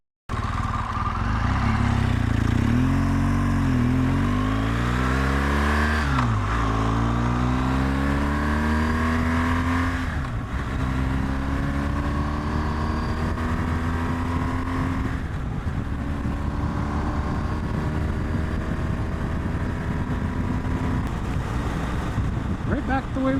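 A motorcycle engine on a curvy road, revving up and down through gear changes as it leans through the bends, heard close with heavy wind buffeting the microphone throughout.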